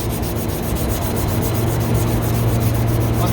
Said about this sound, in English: Start by sanding everything up.